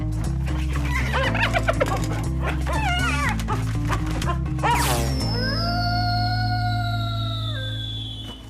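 A cartoon robot dog barks and yips several times over steady background music, followed by a drawn-out whimpering whine that fades.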